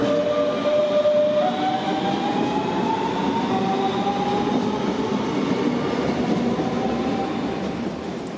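Trains at Frankfurt main station roll through with a steady, loud rumble and rising and falling squealing tones from wheels and motors, sustained for the whole stretch with no talking.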